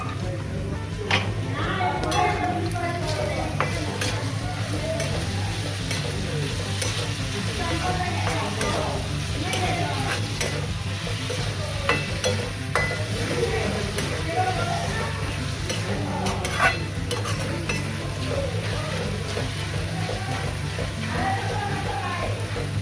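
Jaggery sizzles steadily in a hot pan while a spoon stirs through it, giving a continuous frying hiss with scattered scraping clicks throughout.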